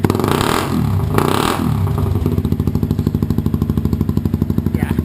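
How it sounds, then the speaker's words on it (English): Honda CBR 250 motorcycle fitted with a Delkevic exhaust, revved hard in a garage, rough rising blips that settle into a rapid, loud, even idle pulse, with no talk. "CBR 250. It's got a Delkevic pipe on it."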